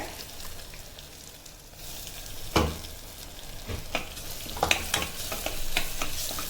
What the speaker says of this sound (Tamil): இந்த மசாலா ஜீரகமும் மிளகு பச்சை வாசனை போகிற வரைக்கும் கொஞ்சம் 2 நிமிஷம் வதக்குங்க